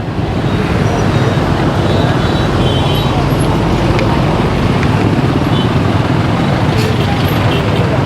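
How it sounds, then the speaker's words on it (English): Dense peak-time road traffic in Vietnam heard from a motorbike weaving through congestion, with a steady loud roar of engines, buses and trucks, occasional air-brake hiss and horn blips throughout. "Let's see if I can cut through all the traffic."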